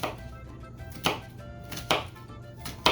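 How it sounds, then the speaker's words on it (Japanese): A knife finely minces onion for a taco topping, making four crisp, separate chops on a cutting board about a second apart, close and clear with no talking. "この玉ねぎはもうひたすらみじん切り"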